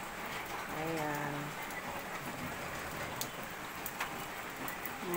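Steady rain on a wet morning falls as a soft, constant patter, with occasional louder drips and a voice speaking briefly in the background.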